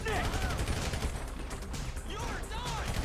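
Rapid bursts of gunfire ring out in GTA 5, loud and dense across three seconds, with voices underneath.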